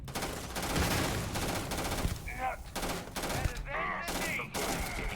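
Rapid bursts of video game gunfire, machine-gun volleys and single shots, crackle loudly in repeated clusters across a firefight, with brief whooshing and ricochet-like effects between bursts.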